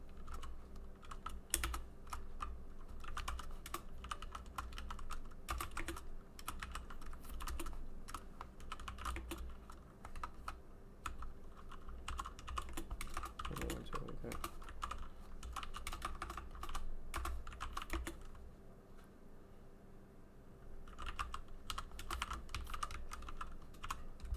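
Steady typing of a note on a computer keyboard, rapid quiet key clicks continuing for over twenty seconds with a few short pauses, close by and without talk.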